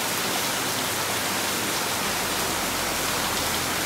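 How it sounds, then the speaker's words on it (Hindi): Heavy rain falls continuously during a cyclone-season downpour, a loud, uniform broadband hiss filling the whole clip with no breaks and no voices. "ओहो हो हो, क्या बारिश हो रहा है भाई"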